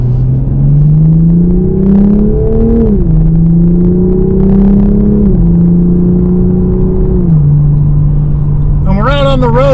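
A 2024 Toyota GR Supra 3.0 Premium drives from inside the cabin, a steady engine drone that rises and falls through several gear changes, with a sharper rev at the end.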